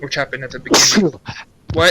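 A single sharp sneeze bursts out between stretches of casual conversation, close and loud.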